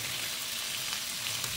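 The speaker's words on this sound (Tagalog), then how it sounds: "Mas mainam kasi kung ipiprito natin kasi para mawala yung lansa ng liver" Chicken liver fries in a pan with a steady, close hiss and crackling sizzle that stays even throughout, with no talk.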